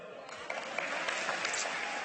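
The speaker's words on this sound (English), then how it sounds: "If you're happy and you know it, clap your hands." An audience at a city celebration clapping steadily, a dense wash of many hands at moderate distance, with a voice faintly underneath.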